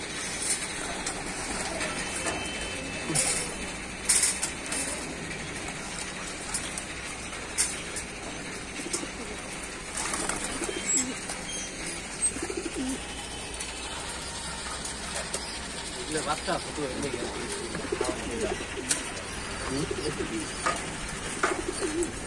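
Pigeons coo steadily through a loft or coop scene, soft rounded calls repeating over a constant background hiss, with occasional wing flutters and no talking.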